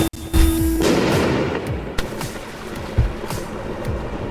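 An impact grenade goes off in a video game with a sharp, close blast followed by a rumbling crackle of further explosive pops and bangs that fade over a few seconds.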